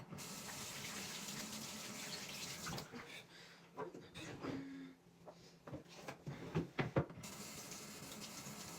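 Tap water running into a bathroom sink while a face is rinsed, a steady close gush with splashing and hand-cupping interruptions in the middle before the flow resumes evenly.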